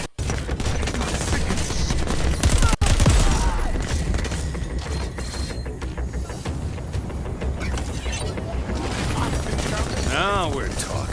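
Heavy video game gunfire from Crackdown 3, sustained bursts of automatic shots and booming impacts under a voice that talks over the action.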